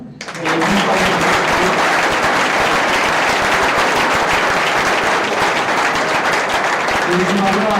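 An audience at a live comedy pitch show in Tarbes bursts into loud, sustained applause that swells quickly and stays dense and even, filling the room with steady clapping.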